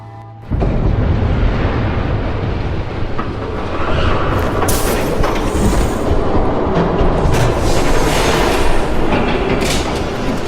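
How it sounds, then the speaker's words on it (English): A train rumbles past in a Batman Telltale Series video game, loud and continuous, its wheels clattering on the rails for about ten seconds after a brief quiet start. "There's a train coming. Take cover."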